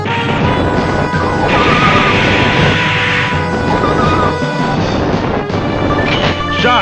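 Firebomb explosions from the Metal Slug X shooter game on PlayStation crash and boom in a dense, loud run of blasts layered with game effects, with no talk.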